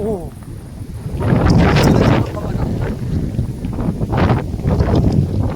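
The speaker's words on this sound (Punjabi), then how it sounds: "ਹਵਾ ਤੇਜ਼ ਆ ਬਿਲਕੁਲ ਤਾਂ ਮੇਰੇ ਵਰਗਾ ਬੰਦਾ ਉੱਡ ਸਕਦਾ ਹਵਾ ਨਾਲ" Strong wind on a mountain in Serbia, buffeting the microphone in a loud, continuous roar that rises and falls in gusts, with a person talking over it.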